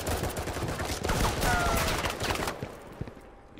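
Gunfire in the video game Firewall Zero Hour, rapid bursts of shots crowding the first two and a half seconds before fading, with a player's voice faintly under it.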